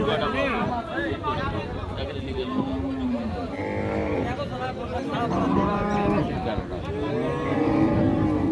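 Friesian cows and their calves mooing at the Raniganj cattle market in Dinajpur, several loud, drawn-out calls overlapping one another close by, over a steady murmur of crowd noise.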